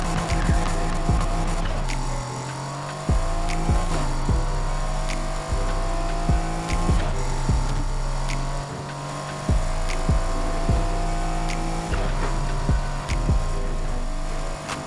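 A car's engine revs hard in Need For Speed Heat, climbing through the gears with a whine that rises, drops briefly at each shift, then climbs again. It stays loud and steady throughout.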